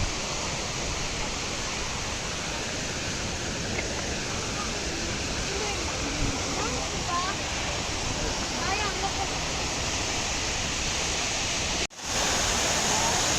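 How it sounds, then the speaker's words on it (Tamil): Steady, loud rushing water from the Jalagamparai waterfall near Tirupathur, a dense unbroken roar heard close by with no pauses, cut off abruptly near the end. "இந்தாண்ட வாட்டர் ஃபால்ஸ் கிட்டால போய் காட்டுறேன்."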